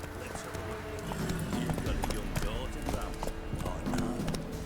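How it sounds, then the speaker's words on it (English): Horse hooves gallop in the video game The Witcher 3, a steady clip-clop running throughout with a brief whinny, under a voice. "Whoa there, Roach"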